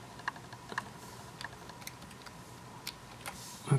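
A keyboard hooked up to a tablet being tested with a few sparse, quiet key taps spaced irregularly over a faint steady background hum, with no talking.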